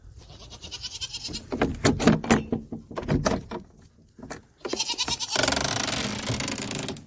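Several goats bleat loudly in a farm stall, a series of harsh bleats overlapping one another, then a door slides open and a louder stretch of noise follows.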